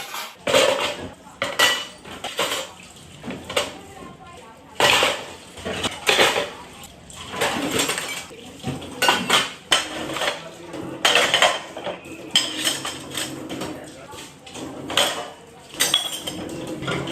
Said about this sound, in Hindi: कुछ कुछ एक्स्ट्रा बर्तन निकाल के भी मैं धोते रहती हूँ ना